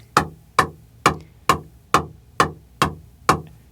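Eight crisp, evenly spaced taps of a pickleball ball on a ProXR Protohype paddle, each a sharp hollow pock about half a second apart, close up in a quiet sound studio with no talking.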